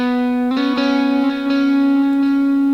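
Electric guitar with delay placed after the amp models in a Line 6 Helix, playing a sustained note with a few picked changes as clean, smooth repeats trail behind without dirty fizz.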